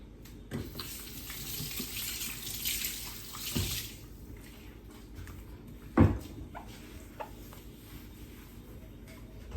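Items are washed by hand under a running kitchen tap, water streaming steadily for the first few seconds and then thinning, with splashes and one sharp clatter partway through and quieter drips and handling after it.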